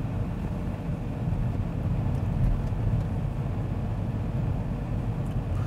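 A car driving on a skid training track gives a steady, moderately loud engine and road rumble with no breaks.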